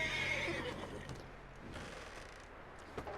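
A horse in the Red Dead Redemption II video game gives a loud, close whinny at the start, followed by softer snorting and shuffling hoof sounds with faint mechanical clicks.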